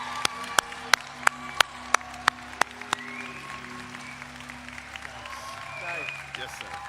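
Audience at a high school graduation ceremony claps, with a few sharp, loud claps in the first three seconds before the sound thins to a low crowd murmur and scattered noise.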